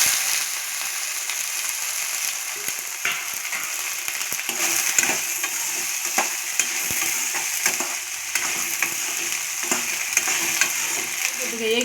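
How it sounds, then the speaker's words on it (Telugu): Okra frying in the same pan used for roasting dried red chilies, a steady loud sizzle with scattered stirring scrapes and crackles throughout. "మిరపకాయలు వేపుకున్న బాండల్లోనే బెండకాయలు కూడా వేపేసుకున్నాం."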